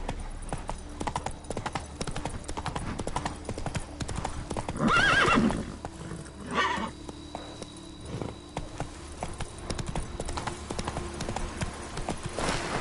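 A horse galloping in The Witcher 3: Blood and Wine on PS5, with a continuous close clip-clop of hooves, a loud whinny partway through, and faint insect-like ambience behind.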